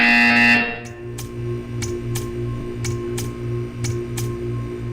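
Buzzer in the video game Portal 2: a short electronic tone is followed by a steady run of sharp, evenly spaced beeps, loud and close, over a low background hum.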